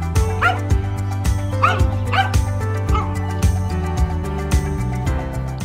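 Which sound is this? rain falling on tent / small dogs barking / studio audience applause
small dogs barking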